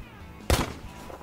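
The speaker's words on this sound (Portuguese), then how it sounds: "os tiros, a pistola." A single sharp shot from a semi-automatic pistol, loud and close, a lone crack with a short ringing tail amid quiet background.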